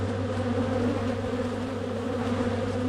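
Agitated honeybees buzz in a steady, dense drone during a hive inspection, close and continuous with no pauses.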